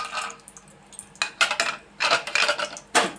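Cashews and almonds stirred in hot ghee in a pan, giving scraping, clattering spoon-against-metal bursts at an uneven rhythm, close and fairly loud, with no talk.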